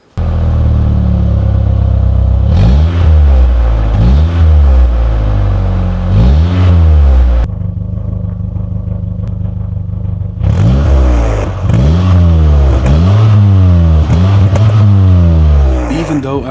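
An old turbocharged Ford with a single-muffler exhaust revs repeatedly up close, loud rising and falling bursts separated by a settled idle, with brief talk in places.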